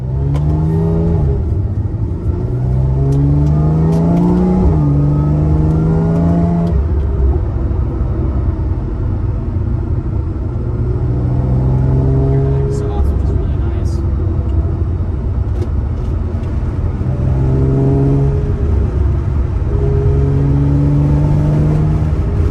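A 2011-era Porsche 911 Carrera 4S of the 997.2 generation with a 3.8 liter flat-six runs loud and close. The engine pitch rises and falls through repeated revs and gear changes, with a constant rumble underneath.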